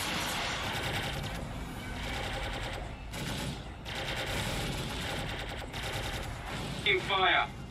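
Spaceship guns aboard a Drake Caterpillar in a space video game fire in long rapid machine-gun bursts, loud and continuous with brief pauses, as a player talks over the shooting.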